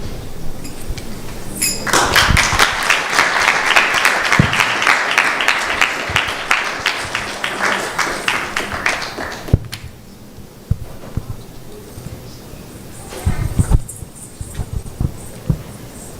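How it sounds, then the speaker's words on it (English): An audience at a Sunday feast class in an ISKCON temple in Phoenix claps loudly and steadily for several seconds. The applause then stops, leaving a quieter room with a few knocks and shuffles. "A big round of applause for His Grace, HariHara Narayan Prabhu."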